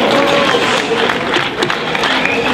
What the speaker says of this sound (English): Big round of applause for yourself again.